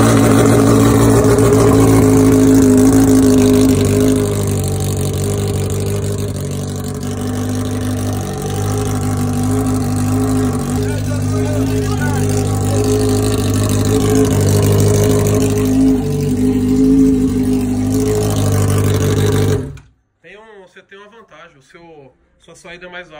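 A Honda Hornet motorcycle engine runs loud and close, rumbling steadily with rises in pitch as it's revved, then cuts off abruptly near the end, followed by brief talking.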